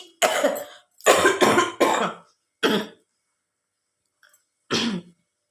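A woman coughs in several harsh, close bursts, some in quick runs of two or three, separated by short silences.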